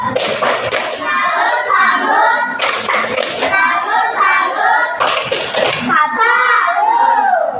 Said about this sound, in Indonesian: sama-sama kita kasih kelompok satu hati tepuk salut